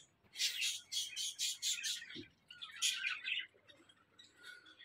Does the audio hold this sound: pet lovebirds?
yes